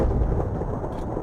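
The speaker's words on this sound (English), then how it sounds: "if you strike them with lightning" Lightning strikes a copper golem in Minecraft, a brief, loud, rumbling crackle that fills the moment without any speech.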